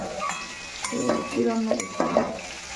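Bata fish frying in a hot pan gives a steady close sizzle, with a few louder bursts and scrapes as the food is stirred or turned, and short tonal bits in between.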